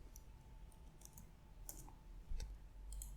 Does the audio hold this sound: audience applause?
no